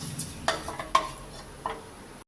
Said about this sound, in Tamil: அப்படியே வதக்கி விட்டுக்கலாங்க.